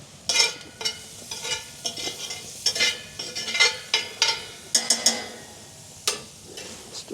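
Food being stirred in a pan at a campsite, with butter in the cooking: a series of close scraping, clinking stirs in an uneven rhythm, some sharp and bright, over a soft sizzle.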